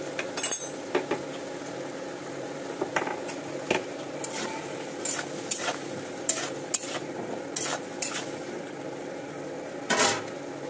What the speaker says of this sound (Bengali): মশলাটা আমি একটু কষে নেবো ডাঁটার সঙ্গে।